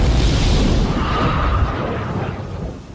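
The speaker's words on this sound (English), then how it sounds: "The exploding chemicals have nowhere to go but out." Liquid fuel ignited by a catalyst inside a reaction chamber bursts out in a loud, rumbling blast that fades away over a few seconds, with no voices.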